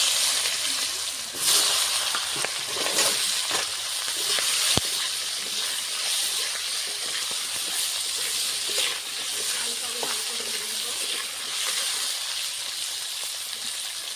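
Cut, washed potatoes drop into hot mustard oil already crackling with panch phoron, giving a bright, continuous sizzle and frying hiss, close and steady throughout, with occasional soft stirring and clinks.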